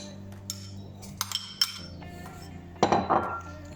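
Butter goes into a pot of sugar for a caramel, heard as light clinks of utensils and cookware, a few sparse taps and then a louder cluster of knocks and scrapes near the end, close by, no talking.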